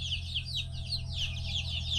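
Native country chickens cluck continuously inside a farm coop, with overlapping repeated calls over a steady low background hum.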